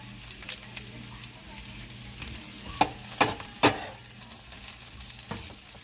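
Smothered potatoes fry softly in a pan with a low sizzle, broken by a few sharp clicks and scrapes from stirring and flipping.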